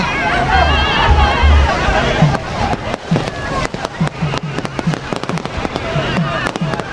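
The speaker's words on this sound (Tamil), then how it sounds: "பாருங்கள் சாமியை ஏற்றும் போது வான வேடிக்கைகள்லாம் கொளுத்தி" Fireworks pop and crackle in rapid sharp bursts over a noisy outdoor crowd and water at a temple festival in Jaffna as a deity is loaded onto a boat, with voices murmuring underneath.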